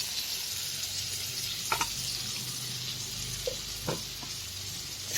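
Prawns frying in a pan with potato and green banana, a soft steady sizzle broken by a few brief stirring scrapes, close up and without voices.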